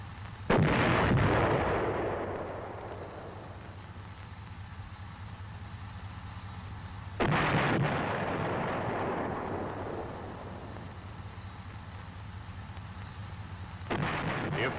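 An M551 Sheridan armored reconnaissance assault vehicle fires HEAT rounds from its main gun three times, each shot a loud, deep boom that rolls and rumbles away over several seconds before the next.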